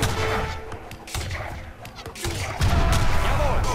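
Cannon and gunfire boom in a battle in the video game Age of Empires 3, repeated heavy thuds and cracks at close range under a dense game soundscape, with a voice partly heard.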